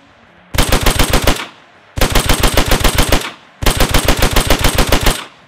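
Bursts of fully automatic StG assault rifle fire in the World War II shooter game Hell Let Loose come as three loud, close volleys of about ten rapid shots each, separated by short silences.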